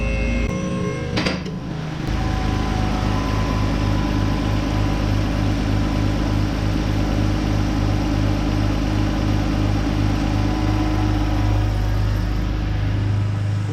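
A beater seat-time car's engine catches after a brief cranking start, then settles into a steady, loud, close idle that runs on unbroken with no one talking.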